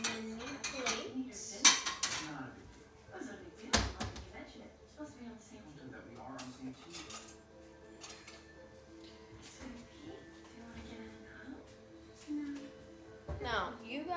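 A small plate being taken from the dishes in a home kitchen, with a few light clinks and clatters of crockery and cutlery, close but fairly quiet, under a person talking.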